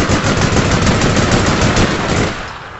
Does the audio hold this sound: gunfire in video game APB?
yes